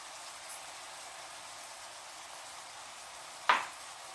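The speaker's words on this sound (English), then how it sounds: "now we're going to go ahead and put in our minced garlic" Minced garlic goes into a hot pan for a butter garlic shrimp and lobster bowl, giving a faint, steady hiss with one brief, sharp burst near the end.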